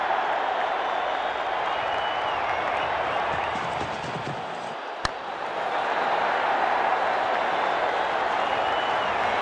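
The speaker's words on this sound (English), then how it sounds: "The crowd is literally on its feet as the final over begins." A cricket crowd at a T20 international between Sri Lanka and Afghanistan, cheering as the final over begins: a dense, sustained roar of many voices and applause filling the stadium, steady and loud throughout.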